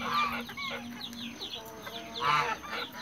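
Several giant Indian chickens cluck and murmur nearby in short, overlapping calls, with a louder squawky burst toward the end.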